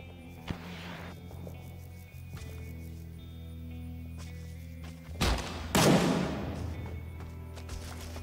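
Gunfire in Rising Storm 2 Vietnam, a couple of sharp shots early, then two loud, close blasts with crashing tails later on, over a low background hum.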